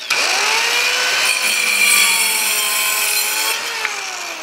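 A Dovaman mini circular saw cuts through maple hardwood, giving a loud, steady, high-pitched whine with ringing overtones that holds for about four seconds without a break.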